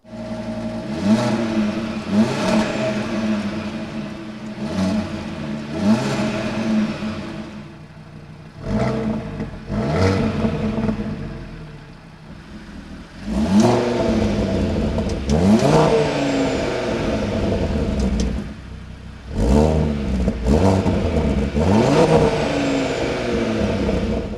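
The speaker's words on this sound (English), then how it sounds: "the performance exhaust is different on the inside a little bit, therefore creates a better sound" An Audi RSQ3's five-cylinder engine revs hard through a performance exhaust in repeated loud bursts, each climbing and falling, with short gaps of idle between them and no voices.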